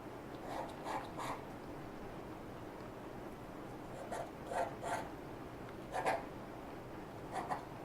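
Knife scraping dark green paint onto paper, heard as faint, close raspy strokes coming in short bursts with quiet gaps between them.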